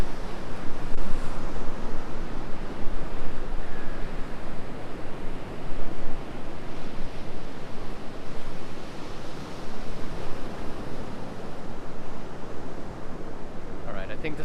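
Ocean waves washing onto a beach at sunrise, a continuous broad roar of surf with gusty rustle, steady and fairly loud, with no clear separate voices.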